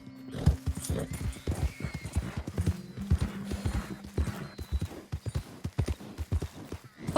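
Horse hooves in Red Dead Redemption II, a steady rhythmic clip-clop of hooves on the ground throughout, with a faint neigh and a voice speaking now and then.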